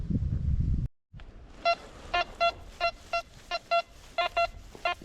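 A metal detector emits a series of short, clear electronic beeps in an uneven rhythm, close by, after a brief rustle of wind, near a dried-up river.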